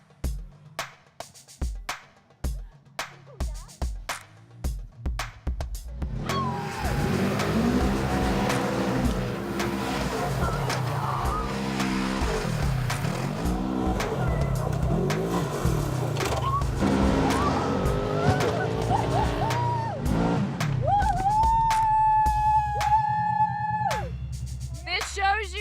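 Race car lapping a Terracross dirt-and-tarmac track, engine roaring loudly and continuously with rising and falling revs after a short stretch of idle blips, heard from onboard with occasional voices underneath.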